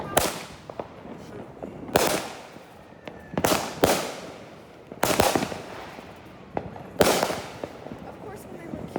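July 4th fireworks explode at night, sharp loud bangs about every one to two seconds, each followed by a crackling decay, with smaller pops scattered between them.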